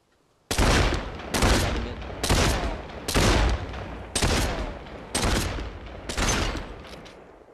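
Seven Magnum gunshots ring out in Population One, loud and close, about one each second, every blast followed by a short decaying echo, with no talk.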